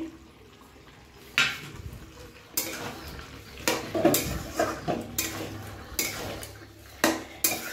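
Fried prawns go into a simmering pot and are stirred, a series of clinks and scrapes of a spoon against metal recurring irregularly over quiet cooking hiss.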